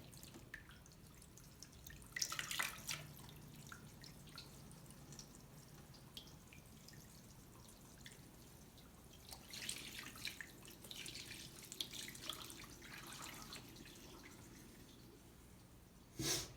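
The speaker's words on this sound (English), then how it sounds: "almost 3/4 of a gallon of water into the rainfall simulator tub" Water poured into a rainfall simulator tub, giving soft, faint trickling and splashing in two main bursts over a quiet background.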